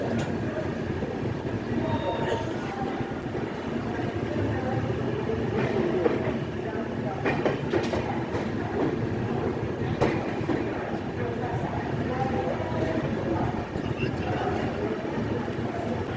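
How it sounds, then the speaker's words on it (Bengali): A passenger train pulls out of Asansol station on a Kolkata-to-Mathura run, with a continuous rumble and rattle of wheels on track, steady and fairly loud from inside the carriage, and faint voices in the background. "আসামসোল পাঁচ মিনিট হল্ট দেওয়ার পর আমাদের ট্রেন ছেড়ে দিল"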